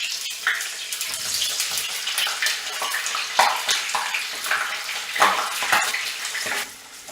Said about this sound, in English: I put all the paneer cubes, and I am just trying to fry it properly.